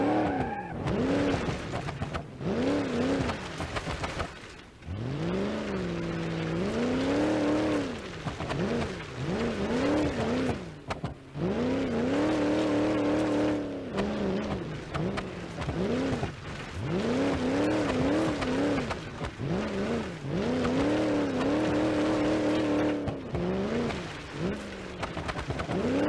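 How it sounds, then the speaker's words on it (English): Supercharged car in the BeamNG.drive video game spinning its wheels off-road, engine revving in repeated rising and falling bursts with tire squeal, loud and close throughout with brief pauses between pulls. "This thing really spins the wheels."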